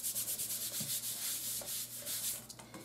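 A hand rubs firmly over the inside of a folded paper heart card, making a close series of rhythmic, brushing swishes about every quarter second with no one speaking.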